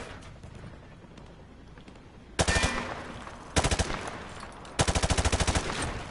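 Automatic gunfire from Call of Duty Modern Warfare 2 shooting through light cover: three loud, close bursts of rapid shots, the last the longest, after a quieter stretch of ambient noise.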